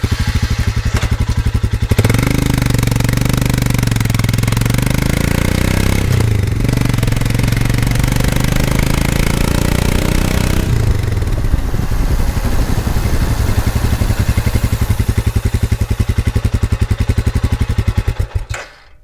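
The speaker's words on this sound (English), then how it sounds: "Beautifully mocking and typical single-cylinder sound, which sounds like more than it actually is." Royal Enfield Scram 411 single-cylinder motorcycle engine, 411 cc and 24 horsepower, running loud and close with a steady deep thumping pulse and mechanical clatter for the full stretch, its pitch rising and falling slightly before cutting off at the end.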